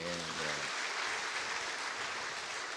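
Congregation applause in a church following the choir's song, a dense, even patter of many hands clapping at moderate distance, with a brief voice at the very start.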